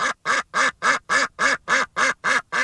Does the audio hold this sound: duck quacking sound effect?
yes